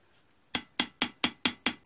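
A hammer strikes a metal sheet six times in a steady rhythm, with sharp, close, loud metallic hits about a quarter second apart, each ringing briefly. The work is metal picture-making, striking the centre to emphasise a part of the design.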